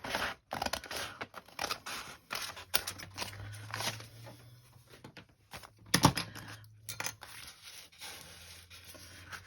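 Scissors snipping through avocado-dyed paper while making mini revision card notebooks, a run of close, crisp cuts with paper rustle and one louder snap partway through; no talking.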